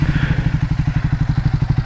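A Triumph Speed 400 motorcycle idles right after starting, its deep exhaust note thumping in a steady, even pulse, loud and close with no talk.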